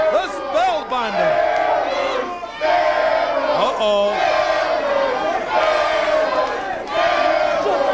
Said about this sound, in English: The crowd yelling steroids, steroids